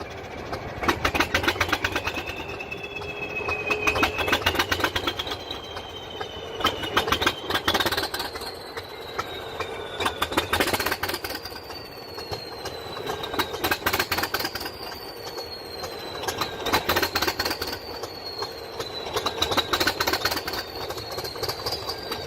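An English Electric Type 1 diesel locomotive with an inline 8-cylinder engine runs up on a cold winter start, giving a loud, steady rumble with heavy clatter and a rising and falling mechanical whine throughout. No one speaks.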